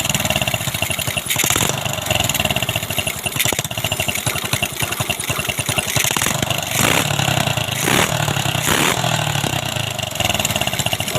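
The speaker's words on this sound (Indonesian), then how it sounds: "Sekarang motornya sudah hidup ya, teman-teman, juga sangat normal sekali ya" Motorcycle converted from fuel injection to a new carburetor, its engine running steadily at idle with several short revs rising above the loud, continuous exhaust note, no talk present.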